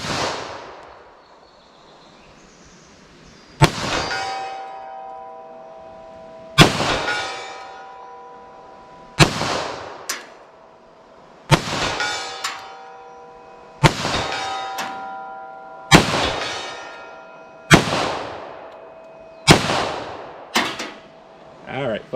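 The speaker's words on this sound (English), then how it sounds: "in the Glock 41, we got our 45s. Let's see if this moves that plate at all." A Glock 41 firing .45 rounds at a steel plate 75 yards out: nine loud shots in a steady, slightly uneven rhythm, each ending in a bright ringing clang from the struck steel.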